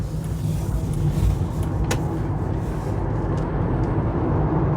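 A rare 1990s Citroën Berlingo Electrique electric van pulling away into traffic, a steady low rumble of road and drivetrain noise with a faint whine, close and continuous, no talking.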